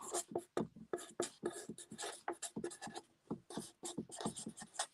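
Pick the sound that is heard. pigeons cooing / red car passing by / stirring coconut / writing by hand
writing by hand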